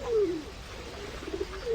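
Pigeons being fed by people in a park coo softly. A few low, warbling calls rise and fall over a quiet outdoor background.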